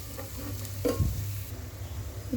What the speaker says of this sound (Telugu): ధనియా పొడి వేసి కలపండి ఒకసారి